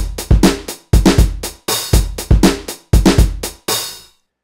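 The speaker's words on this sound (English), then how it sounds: "adding an open hi-hat instead of the closed hi-hat" A funk drum groove with kick, snare and hi-hat repeats several times, with an open hi-hat replacing the closed one so a longer sizzling wash rings out, ending on a sustained final cymbal.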